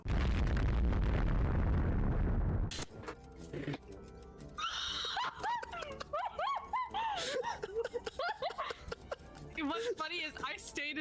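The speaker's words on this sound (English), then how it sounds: "Now, you ever seen a nuke go off?" A loud nuclear blast in a game opens with a dense roar that cuts off abruptly, followed by excited talking.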